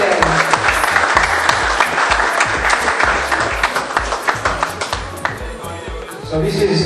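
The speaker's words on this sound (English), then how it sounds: "Come on, a round of applause." Audience applause at a North East Stars award ceremony for a Young Player of the Year, a dense, steady clapping of a large crowd with some louder individual claps near the front, sustained throughout with voices mixed in.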